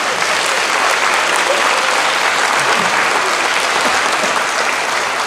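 Graduates and guests at the International University of Japan's 2025 graduation ceremony give a council group a steady round of applause, a dense, even wash of clapping that fills the hall without a break.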